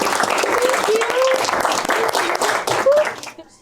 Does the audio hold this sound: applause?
yes